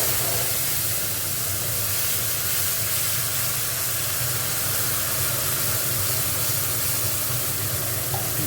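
A paste of cumin, turmeric, green chili and tomato goes into hot oil tempered with black cumin for a rohu fish curry, producing a loud, continuous hissing sizzle close by with no pauses.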